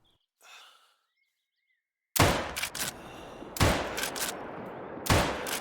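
Three loud, sharp rifle shots fired at Barasingha deer in theHunter: Call of the Wild, each with a ringing echo tail, spaced over a second apart after a short quiet stretch with a faint breath.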